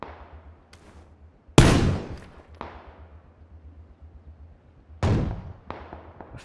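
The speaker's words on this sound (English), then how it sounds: "He's shooting his AK." AK rifle gunfire in PUBG: Battlegrounds, a few sharp cracks, two of them loud and close, with fainter echoing shots between and after them.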